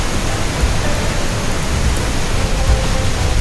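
Water of the Rhine Falls in Switzerland rushing and pouring down beside a side path, a loud, continuous broadband roar with no let-up and no voices.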